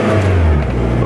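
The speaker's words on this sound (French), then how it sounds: "il faut toujours que je donne du gaz, sinon elle va caler." Volkswagen Golf 1 GLI Karmann engine held on the throttle, a loud, close, steady revving drone with a mid-pitched engine note, with no voices over it.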